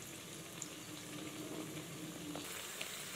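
Corn vadai fry in oil over a medium flame, giving a soft, steady bubbling hiss at a low, even level throughout, with no speech.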